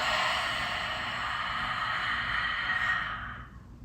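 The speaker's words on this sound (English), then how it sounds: "And exhale, expel it all out." A long, steady exhale during seated yoga breathing, close and breathy, trailing off near the end with no talking.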